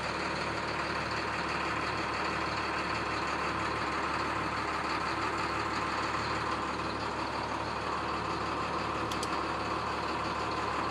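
A 2012 IC CE school bus sits idling just after a cold start, its diesel engine giving a steady, droning rumble with a constant whine on top, unbroken throughout and with no one talking.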